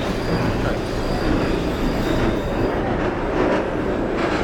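A New York subway D train in the OpenBVE simulator rumbles along the rails with a loud, continuous roar, faint wheel clatter and a thin squeal above it, close and steady, with no talk.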